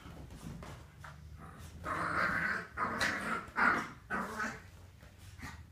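Two Yorkshire terriers playing in a living room, giving close growls and small whimpering sounds in uneven bursts that rise and fall throughout, with a steady low background hum underneath.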